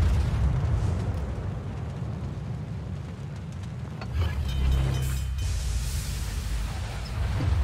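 A battleship shell strikes an enemy ship in the naval game World of Warships, a deep rumbling impact rolling over continuous heavy battle noise, with a further burst of crackling booms toward the end.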